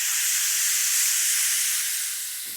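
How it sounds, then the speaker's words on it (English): Water sprayed onto a very hot flat-top grill used for Philly cheesesteaks bursts into a loud, bright steam hiss that holds steady, then slowly thins out. "spray some water on it and let it steam clean"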